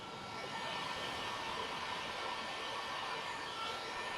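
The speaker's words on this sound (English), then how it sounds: "Now, time to get the heat gun out. Get your heat gun hot." A heat gun blows hot air over epoxy resin on a mini pizza peel, a constant, fairly faint broadband whoosh and fan hum that holds steady without pause or voices.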